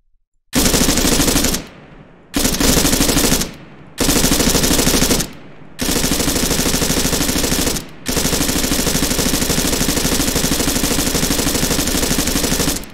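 Minimi Para (M249) machine gun in the ArmA 3 video game firing loud sustained automatic bursts, several short bursts and then one long unbroken stream of fire, with no talk over it.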